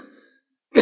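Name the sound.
cough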